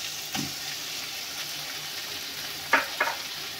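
Ginger paste fries in a pan with a soft, constant sizzle, broken by a few brief scraping strokes as it is stirred, two of them close together near the end.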